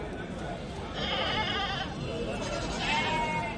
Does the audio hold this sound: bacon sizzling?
no